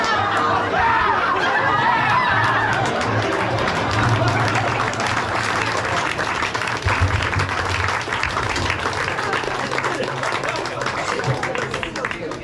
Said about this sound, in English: let's just keep some polite applause